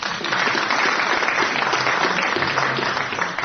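Studio audience on a British radio quiz show applauding steadily and loudly throughout, a dense continuous wash of clapping with no voices over it.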